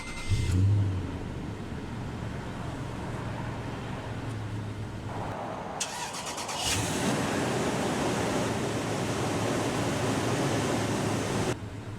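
A 2006 Toyota Tundra SR5 pickup truck engine cranks and catches partway through, then settles into a steady, close idle rumble that continues to the end.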